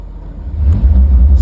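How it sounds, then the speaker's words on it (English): An old Link-Belt machine's engine cranks and catches under throttle, a deep, rumbling low drone that grows louder and rougher over a second and a half. "We'll fire up the old link belt. You kind of give her a little throttle."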